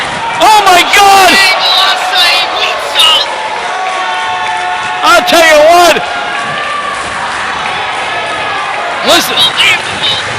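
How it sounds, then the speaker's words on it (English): A wrestling crowd at a TRUE Championship two-out-of-three-falls match roars and cheers steadily in the background, a dense wash of noise running under excited commentary that keeps talking throughout. "crowd is showing their appreciation here for these 2 combatants"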